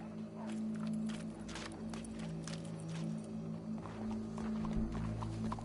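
Horse hooves clip-clop at a steady walking pace in a video game, fairly faint beneath a low, constant background hum.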